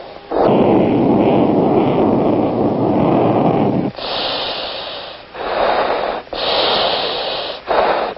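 Thunderbirds F-16 jet engine at full thrust during a maximum climb from ground level at an air show: a loud, continuous roaring rush that holds steady, then shifts to a higher-pitched, wavering jet noise with brief dips.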